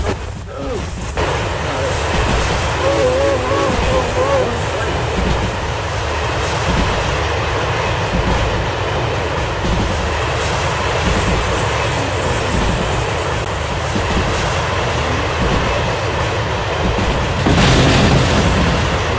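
A train in the Derail Valley railway game runs at high speed with a loud, steady rumble and rushing roar that continues throughout, ending with a brief louder burst of noise.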